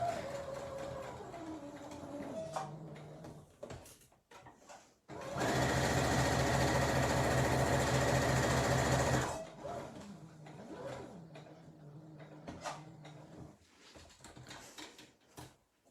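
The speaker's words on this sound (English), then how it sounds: "I'm going to do those reverse stitches forward and then backwards." A sewing machine stitching an Easter bunny fabric bag runs in one steady, loud whirring burst of about four seconds, set between quieter handling sounds, fabric shuffling and brief clicks.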